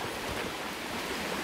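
Rushing river water flows steadily upstream, a dense, even wash of sound that stays close and constant with no voices over it.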